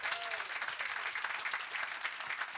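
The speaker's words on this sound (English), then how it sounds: "That deserves a round of applause." Steady applause from a small studio audience during a radio live studio session interview, a dense, even patter of clapping that continues throughout, moderately near.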